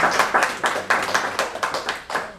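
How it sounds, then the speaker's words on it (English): An audience of poets and poetry lovers claps after a poem reading in New York. The applause is a close, crisp run of about a dozen fairly even claps in quick succession, with no voices. "I do appreciate an audience of poets and poetry lovers who clap after every poem"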